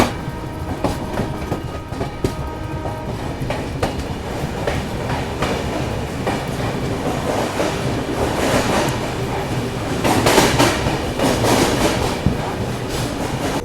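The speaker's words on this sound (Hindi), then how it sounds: "हमारी गाड़ी धीमे धीमे रफ्तार में चंद्रपुर स्टेशन को स्किप कर रही है" The Chennai Duronto Express rolls slowly past Chandrapur station without stopping, giving a steady rumble with wheel clatter and occasional squeal throughout, close and continuous.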